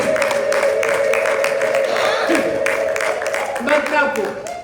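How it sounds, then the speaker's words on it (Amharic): A church congregation at a Sunday service in Oakland, California, breaks into sustained ululation and rhythmic applause, a dense, loud, continuous mass of trilling voices and clapping with no pauses. "እልልታ ጭብጨባ ይሁን።"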